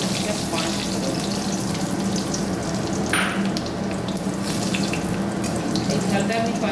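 Whole bay leaf, dried chillies and Bengali five-spice fry in hot oil, a steady close crackle and hiss that continues without a break.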